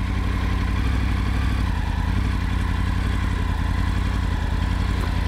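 A Triumph Tiger 900 motorcycle engine runs in first gear with no throttle applied as the clutch is released, giving a steady, loud, close mid-pitched rumble that builds slightly, with no talking.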